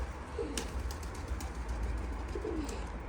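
Pigeons coo softly on a roof over a steady low rumble of outdoor noise, with a couple of faint wing flutters and brief scuffles nearby.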